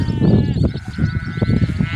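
Sheep bleat several times close by while grazing, overlapping wavering calls against faint outdoor background.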